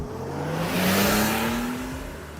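A BMW Z3 roadster, 2.8-litre straight-six, revving steadily and loudly up through a rising engine note, close by with no talk.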